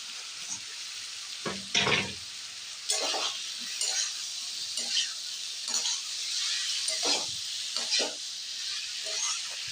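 Boiled elephant foot yam stirred into oil with onion, garlic, green chilli and tomato: continuous close sizzling broken by repeated spatula scrapes and stirring bursts in the pan.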